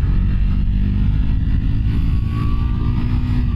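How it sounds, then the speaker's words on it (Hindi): A Triumph Scrambler 400X motorcycle, carrying a pillion passenger, pulls hard to its redline. The engine roars loudly and steadily, and its tone climbs toward the end. "तो रेड लाइन तक एक बार पुल करते हैं"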